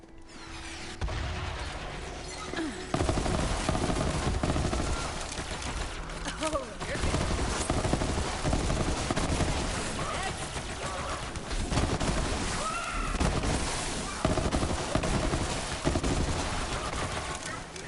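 Hornet legendary pistol firing in Borderlands 3, with dense rapid bursts of gunshots and mechanical clicks over game noise, continuing loudly throughout.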